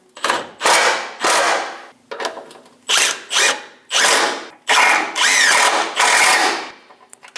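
Rapid bursts of a power ratchet driving bumper bracket bolts on a Chevrolet Express 2500 van, about eight loud, close whirring runs of varying length separated by brief pauses, with no talking.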